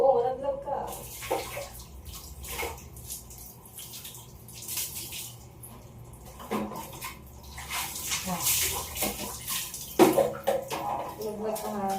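A dog being bathed at home, with water splashing and running and irregular bursts of sloshing and dripping close by, while people talk over it.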